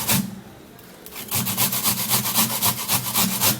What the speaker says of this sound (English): And then we're going to be grating it.